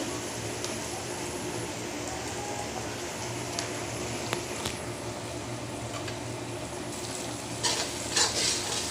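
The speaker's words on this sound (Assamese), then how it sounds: "এইখিনি বেছি হাই ফ্লেমত নহয় মিডিয়াম ফ্লেমতে ভাজিম ৰঙচুৱা কৰি ল'ম পিঁয়াজখিনি" Onions fry in oil over a medium flame, a continuous low sizzle with occasional stirring scrapes and a few louder clinks near the end, no talk.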